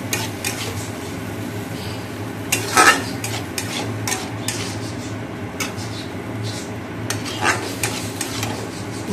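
Maggi noodles with a little water cook in a pan, a steady low bubbling simmer with scattered stirring scrapes and a few louder clinks of utensil against the pan, close and continuous.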